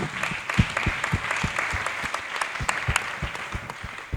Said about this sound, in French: Ça, on peut applaudir